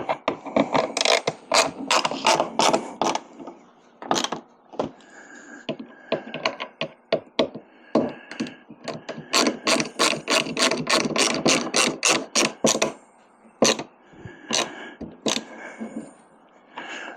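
A ratchet tightening the bolts of a kayak motor mount for a Newport Vessels NK180 Pro on a Native Watercraft Slayer Max 12, with quick clicking runs in bursts and short gaps, close and crisp, no talking.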